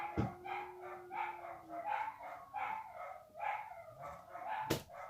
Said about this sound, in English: I'm telling you, with the whole barking thing. There's nothing outside. And now my big dog is howling.